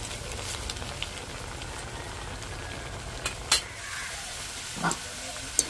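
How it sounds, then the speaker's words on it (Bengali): Potato rings frying in oil make a soft, steady hiss and crackle, with a few faint clicks and light knocks from turning them in the pan. "এইভাবে একটু হালকা লাল লাল করে ভেজে নেব"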